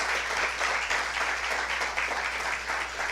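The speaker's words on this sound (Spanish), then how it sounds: "Denle un fuerte aplauso al Señor" A church congregation gives loud, sustained applause, a dense steady wash of clapping with no break for its whole length.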